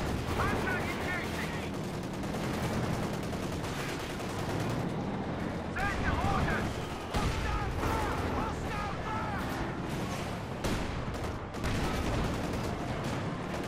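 Company of Heroes 2 battle sounds, dense bursts of small-arms and machine-gun fire with heavier booms against a Panzer IV, continuous and layered, while a commentator talks over them throughout.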